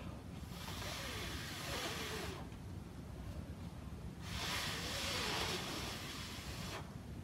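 A person blows air over a napkin, making two long, steady breathy rushes of air close to the microphone, separated by a short pause.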